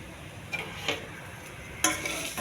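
Grated beetroot being stirred in a pan with turmeric, chilli powder and salt, giving faint, sporadic scrapes and light clicks over a soft background hiss.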